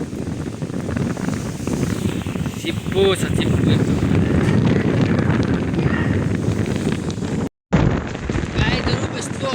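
Strong gusting wind drives rain across open village land, with a loud roar and buffeting against the microphone, while a person speaks over it. The sound cuts out briefly near the end.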